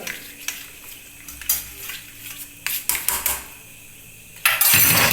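Bread snack pieces in flour batter dropped one by one into hot oil, with scattered utensil clinks and knocks before a sudden loud burst of sizzling frying near the end.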